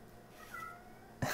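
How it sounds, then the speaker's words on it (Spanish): A pet cat gives a faint, drawn-out meow in a quiet room, followed by a brief louder sound right at the end. "Mi gata es una llorona."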